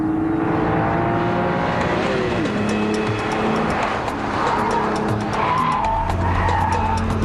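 Alpina Roadster S and Porsche Boxster S launching hard together, engines roaring loudly and continuously with tire squeal and skidding as both cars take off at full throttle.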